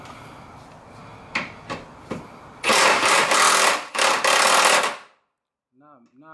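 Pneumatic impact gun loosening car wheel lug nuts, with a few short knocks first, then two loud sustained rattling bursts close by, ending in silence and a brief voice.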